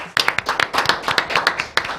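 Close, distinct hand claps from a small audience ring out in an uneven cluster, individual sharp strikes overlapping into light applause with no one speaking.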